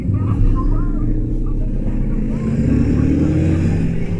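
A 2024 Royal Enfield Shotgun motorcycle engine runs steadily while being ridden, giving a loud, continuous low rumble with slight rises and dips in pitch and some wind noise, with no break across the few seconds.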